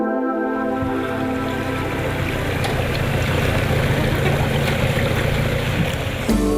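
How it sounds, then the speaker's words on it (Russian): A boat engine runs close by as the craft comes in to moor at a riverbank, a steady motor drone with water sloshing, continuous and fairly loud, with a brief bump near the end. "Стоит только нам сойти с аэросудна, как к берегу причаливает еще одна лодка"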